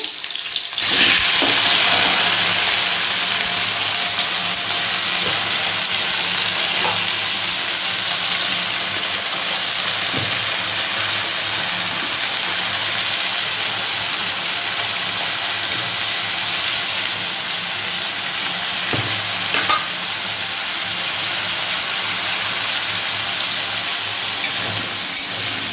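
Chopped gati taro and potato pieces hit hot oil tempered with whole cumin, a loud, dense, continuous sizzle and hiss that holds steady throughout, with occasional light clatters and no talking.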